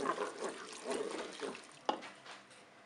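A spinach gratin mixture with crème fraîche and mustard is stirred in a Cookeo bowl, making soft wet, squelching swishes in an uneven rhythm with one sharper knock of the utensil against the bowl, close and fairly quiet.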